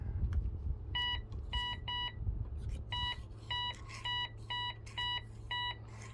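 An MD840 metal detector gives repeated high electronic beeps over a one troy ounce silver coin, evenly spaced double tones over a low steady hum.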